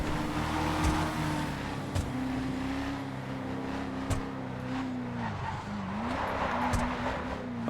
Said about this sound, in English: driving this drift-tuned vehicle is going to be like driving on soap